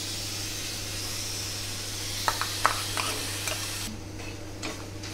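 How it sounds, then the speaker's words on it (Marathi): Tomatoes roasting in a pan for Khandeshi patodi bhaji, a steady soft sizzle with a low hum beneath and a few sharp ticks and pops partway through, close and fairly quiet. "आता आपण टोमॅटो भाजून घेणार आहोत।"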